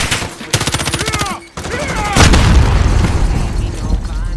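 Online shooter gameplay with rapid bursts of automatic gunfire and heavy booming shots, close and loud, with electronic sweeps between volleys and a dense, sustained barrage toward the end.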